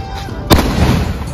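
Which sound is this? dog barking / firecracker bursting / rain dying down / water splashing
firecracker bursting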